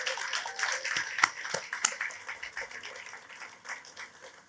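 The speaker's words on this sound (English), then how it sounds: "let's give a big round of applause for all of the artists who shared their talents with us" Scattered applause from a small outdoor crowd at a community ribbon cutting for a utility box art project, clapping fairly faint and thinning out over several seconds with no voices over it.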